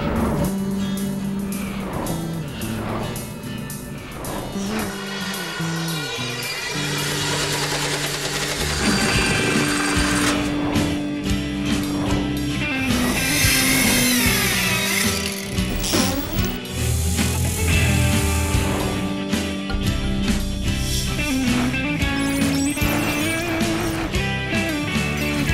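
Inboard diesel boat engine cranking over and catching, then running with a rough, clattering mechanical rhythm that grows louder and busier, heard up close with no talk.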